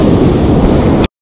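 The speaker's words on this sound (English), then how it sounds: "There's nice big waves crashing to the left." Big ocean waves crash on the shore at Los Osos, California, a loud, broad roar of surf with wind buffeting the microphone, holding steady for about a second before cutting off abruptly.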